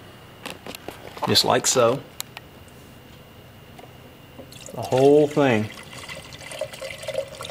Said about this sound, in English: we're gonna go ahead and pour in our seafoam now